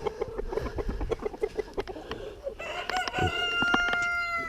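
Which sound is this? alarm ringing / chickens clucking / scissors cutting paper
chickens clucking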